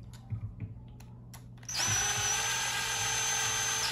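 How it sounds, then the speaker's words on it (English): A cordless power drill drives a screw into a 3D-printed racing wheel rim. A few soft clicks and handling sounds come first, then the motor starts with a steady, close, high whine. "Grab my trusty power drill because I'm lazy."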